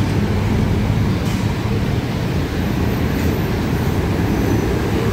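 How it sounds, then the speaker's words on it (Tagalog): A Manila MRT train rumbles steadily nearby, its loud, continuous rolling roar filling the whole stretch with no pauses. "Tapos doon naman sa kabila ay ang tawag na ito, MRT"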